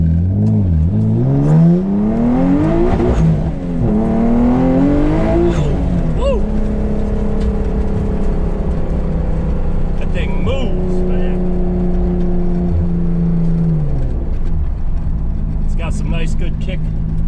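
A 500-horsepower Nissan 300ZX accelerates hard on a street ride, its engine note climbing repeatedly through rising pitch sweeps between gear shifts before settling into a steady, loud drone heard from inside the car.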